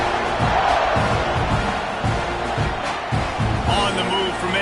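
Stadium crowd noise in the video game College Football 26 at a Tennessee versus Texas A&M game, a steady loud roar of the crowd under a play-by-play commentator's voice.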